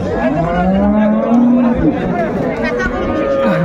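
Dairy cows and calves low at the Raniganj cattle market in Dinajpur, drawn-out moos rising over a busy crowd murmur with people talking close by.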